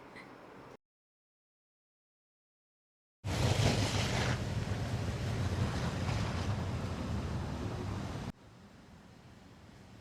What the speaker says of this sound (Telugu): అలలు ఎంత ఎగసి పడుతున్నాయంటే అలలు